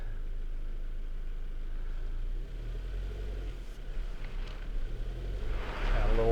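A Subaru Outback's engine hums low and steady while the wagon climbs out of a dip off-road, rising in level as throttle is added near the end, with faint scraping and rumbling from the terrain.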